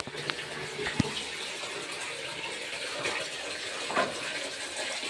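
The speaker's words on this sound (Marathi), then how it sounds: "बघा पाणी भरायला." Water runs steadily from a tap and fills a container with a constant gushing hiss, close by, with an occasional clink or knock.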